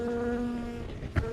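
Bees buzzing close around a hive on a farm, a steady droning hum with a brief louder pass near the end.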